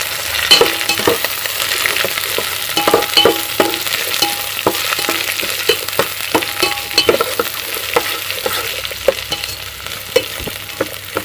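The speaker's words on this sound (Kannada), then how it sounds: "ಮೆಣಸಿನಕಾಯಿ ಎಲ್ಲ ಹಾಕಿದ್ದೀನಿ ಈಗ ನೆಕ್ಸ್ಟು ಈರುಳ್ಳಿ ಹಾಕ್ತೀನಿ" Onions and green chillies frying in hot oil for upma crackle and sizzle loudly up close, with frequent sharp spatula taps and scrapes against the pan in an irregular rhythm, no voices.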